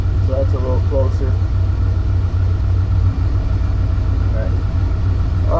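A retuned Chevrolet Camaro engine idles rich with a steady low rumble throughout, while someone talks over it.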